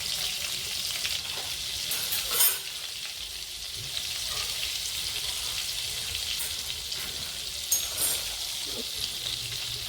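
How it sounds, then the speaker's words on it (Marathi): Butter melting with bay leaves and whole spices in hot oil for pav bhaji gives a steady, close sizzle and crackle throughout, with a couple of brief louder pops and no talking. "छान तळून द्यायचं बटर"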